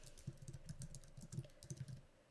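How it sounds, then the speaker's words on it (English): Quiet keystrokes on a computer keyboard tap in quick irregular bursts, soft and close, with a brief pause before the clip ends. "and then just start typing."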